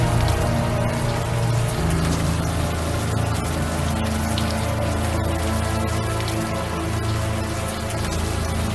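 In the Unavowed adventure game, warm rain pours down without pause, a dense, even patter that holds loud and constant from start to finish with no voices.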